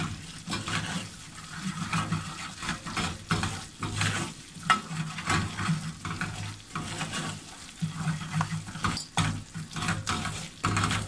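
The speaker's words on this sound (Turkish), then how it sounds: "Mısır unumuzu yanmayacak şekilde kavuracağız arkadaşlar" Corn flour for kuymak roasting in a pan while being stirred, giving a steady dry sizzle with repeated scraping strokes of a spoon across the pan, close and continuous, no talking.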